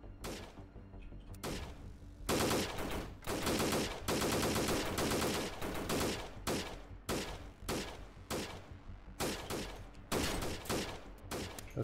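Gunfire in the shooter Freeman Guerrilla Warfare comes in loud, repeated automatic bursts of varying length, separated by short pauses, close and intense.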